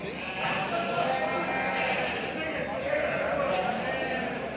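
Lambs and small livestock bleat continuously at a busy livestock market in Çorum, Turkey, a dense, steady chorus filling the space while people talk over it nearby.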